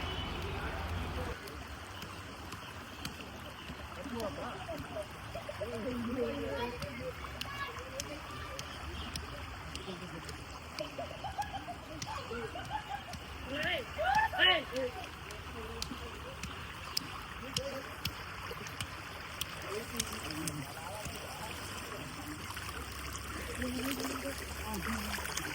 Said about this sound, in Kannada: ನೋಡಿ ನೀರು ಎಷ್ಟು ಚೆನ್ನಾಗಿ ಹರಿತಾ ಇದೆ.